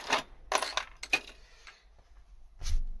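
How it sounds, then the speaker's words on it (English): Car keys for a Ford Mondeo MK5 jangle and clink in a few short metallic bursts close by, followed by a low thump, with no talking. "Grab the car keys."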